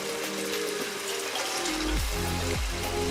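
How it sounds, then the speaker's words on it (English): Water splashes steadily into a pan holding wine and fish for an acqua pazza, a continuous close pour with rising gurgling tones as the level climbs. "we're also going to put a little bit of water"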